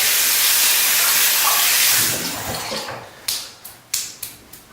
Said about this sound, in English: So I'll rinse the brush so you can do bowl lather.